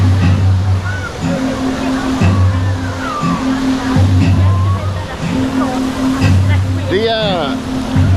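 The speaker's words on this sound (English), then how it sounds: "Here's the waves about to start." Loud, constant rush and slosh of churning water as waves start in a water park wave pool, with a pulsing low hum and voices and shouts in the background.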